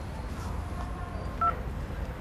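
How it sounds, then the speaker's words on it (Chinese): A telephone being dialed, with a couple of short electronic keypad tones over a low room hum, close and brief, with no talk. "你等着我再打一个电话 啊。"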